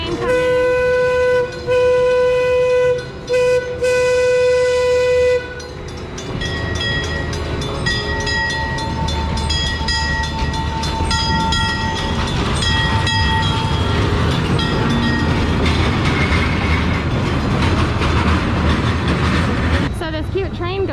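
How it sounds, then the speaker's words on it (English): Small theme park train at Six Flags Fiesta Texas, sounding several short horn toots up front, then rolling past with a steady rumble and clatter of wheels on track, loud and close. "Here's the train coming."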